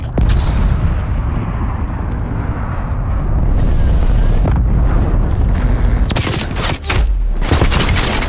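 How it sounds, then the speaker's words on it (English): A cruise missile strike in the Cold War shooter Call of Duty: Black Ops Cold War, heard as sustained loud rumbling explosions and crackling blasts, close and overwhelming, with no talk. "Cruise missile launch detected."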